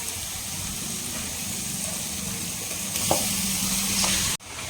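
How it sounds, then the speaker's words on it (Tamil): Marinated chicken sizzling in a pan of masala for a Tamil-style chicken gravy, a steady close frying hiss with occasional scrapes of stirring and a sharp clunk near the end. "சிக்கன் வந்து பாருங்கள் சேர்த்துட்டு நான் நல்லா மிக்ஸ் பண்ணிகிட்ருக்கேங்க இந்த மசாலாவோட"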